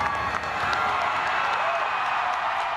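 A large Texas rally crowd cheers and claps in a steady, dense roar that holds without a break, fairly close and loud, with scattered whoops rising above the mass of noise.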